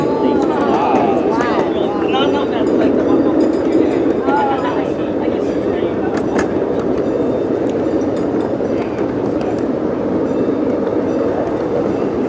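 A live steam miniature train rolls along its rails on a park ride, its steady wheel rumble and clatter running loud and continuous throughout, with voices talking over it.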